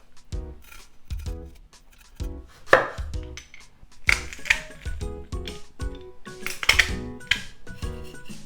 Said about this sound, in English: for the ginger, I'm gonna cut off the dried part off like this and then peel the skin off